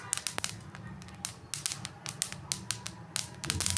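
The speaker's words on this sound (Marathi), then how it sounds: "आला का तडतड आवाज आणि म्हणजे तीळ हे जरा उडल्यासारखे पण दिसत असतील" Sharp, irregular crackles and pops burst in quick succession over a low steady hiss as sesame seeds spit and pop while roasting in a hot dry pan.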